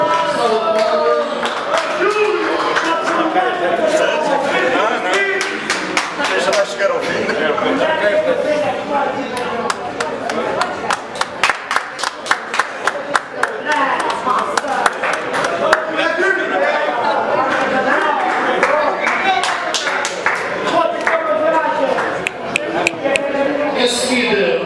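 Audience applause at a darts league prize ceremony, with scattered clapping swelling in bursts mixed with crowd chatter and a voice talking over it.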